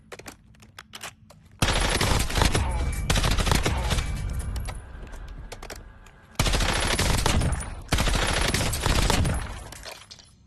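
Assault rifle fire in Warzone comes as two long, loud, sustained automatic bursts separated by a short gap, with a few scattered single shots around them.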